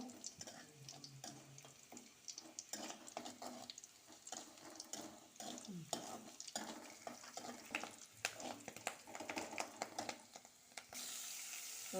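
Mustard seeds fry in a pan for a banana-flower and prawn dish, a faint crackling sizzle with stirring clatter, heard alone and quietly, ending in a burst of broadband hiss.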